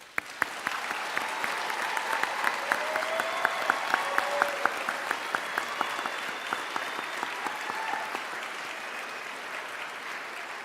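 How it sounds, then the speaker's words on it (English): Audience applause at a military graduation ceremony for new soldiers at Fort Sill, a dense, sustained clapping from a large crowd lasting about ten seconds at a steady level, with a few sharper individual claps standing out. "please join me in a round of applause for our newest American soldiers"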